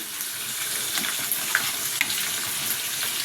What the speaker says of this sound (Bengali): শুধু চিকেনের পিসগুলো নিয়ে ভেজে নেবো